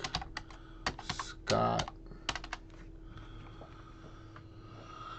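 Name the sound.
typing on a new computer keyboard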